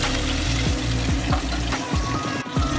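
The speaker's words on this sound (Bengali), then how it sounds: "আর মাছগুলো আস্তে আস্তে করে ছাড়তে থাকবো আর আঁচটাকে একদম কমিয়ে দেবো যাতে আর মাছগুলো ভালোভাবে ভাজাও হয়" Aar and tangra fish fry in hot oil over low heat, a loud, continuous crackling sizzle with a few brief dips, heard close up under a faint musical backing.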